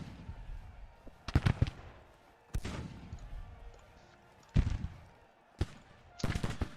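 Civil War-era musket volleys and cannon fire in the Grand Tactician strategy game: several loud, sharp reports come in separate bursts, some in quick clusters, each followed by a short fading echo.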